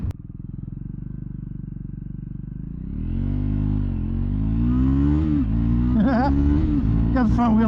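A 2024 Triumph Scrambler 400X motorcycle pulls hard while the rider accelerates, lifting the front wheel slightly. The loud, close engine note climbs and shifts through revs, with a rider talking over the building roar.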